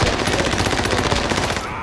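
Rapid automatic gunfire from the Call of Duty Warzone video game rattles loud and dense in a steady burst, fading off at the end.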